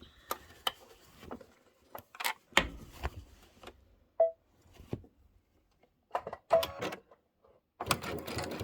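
A sewing machine stitches together pieces of a quilted table topper in short, separate bursts, with clicks and handling noises in the pauses between runs and a longer, denser run at the end.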